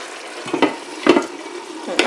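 Mince cooking with mixed vegetables, crushed tomatoes and bay leaf in a pan, a soft steady bubbling hiss broken by three short scraping stirs spaced about half a second apart, close by with no talking.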